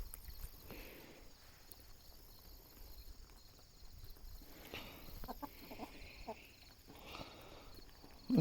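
Chickens on a backyard farm in the morning, soft scattered clucks and rustling heard faint and distant over a steady insect and cricket hum outdoors, no talking.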